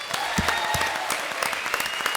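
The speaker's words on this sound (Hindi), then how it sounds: "हेलन जी के लिए एक बार जोरदार तालियां।" A studio audience at a televised comedy show claps loudly and continuously, a thick, even wash of many hands with a few sharper individual claps standing out.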